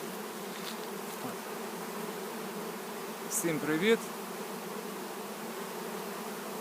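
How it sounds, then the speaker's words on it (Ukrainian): Honey bees hum in a steady, droning buzz close by over drying honeycomb frames. A voice briefly speaks a greeting partway through. "Бджола ця не кусається зараз. Вона працює."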